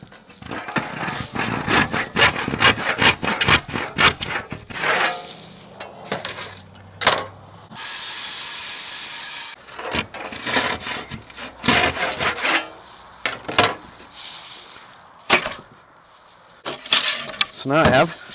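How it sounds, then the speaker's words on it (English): Cordless power saw cutting wood for a bookshelf, heard as a dense run of rasping, scraping strokes broken by short pauses and one steadier burst near the middle, close and fairly loud. "This looks like a job for my cordless saw."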